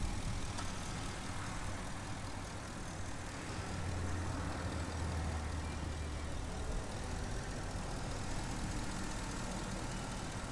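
A 2015 Ford F250 Regular Cab with a 6.2 liter gasoline engine idles steadily nearby, a continuous low rumble with broad hiss and no talk over it.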